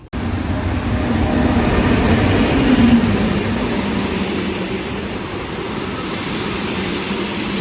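A modern train rolls past in the Bakony hills of Hungary with a steady, loud rumble and hiss of wheels on rails, fading slightly toward the end, no voices.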